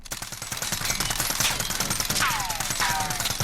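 Rapid Mini UZI hip fire in Call of Duty Modern Warfare, a steady, dense rattle of automatic shots from close range. A few whistling tones cut in near the end.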